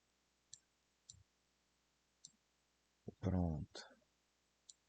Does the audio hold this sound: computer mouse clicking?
yes